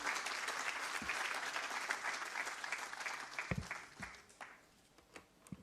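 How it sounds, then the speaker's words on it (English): Audience applause at a health conference's inaugural session, a dense sustained clatter of many hands that thins out toward the end into a few scattered final claps. "Could we please have a round of applause,"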